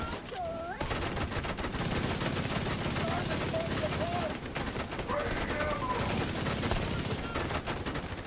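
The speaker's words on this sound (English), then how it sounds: "could you stop shooting me for a second?" Rapid automatic gunfire in a video game, dense bursts rattling almost continuously at close range, with some background voices and effects mixed in.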